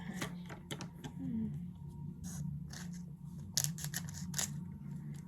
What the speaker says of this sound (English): We need like 2 scissors so you can do this.